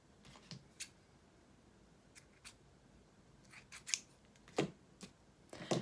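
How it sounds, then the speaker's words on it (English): Scissors trim ribbon for a handmade card, several quick close snips scattered over a quiet background, the louder cuts clustered near the end. "All right, trim that up."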